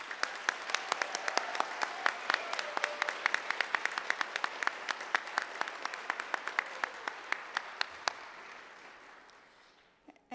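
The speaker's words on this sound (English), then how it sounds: "Let's do a round of applause for our ECHO graduates." Audience applause for ECHO graduates at a sonography pinning ceremony, steady many-handed clapping with sharp individual claps standing out, gradually thinning and fading over about ten seconds.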